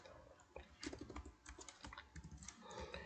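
Irregular clicking of fingers typing on a computer keyboard while entering Java code, quiet and close, in uneven bursts with short pauses.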